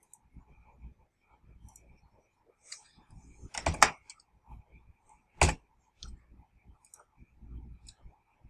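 Computer mouse clicks during dealer management software use at a desk: scattered faint clicks and small taps, with a couple of louder sharp knocks, in a quiet room.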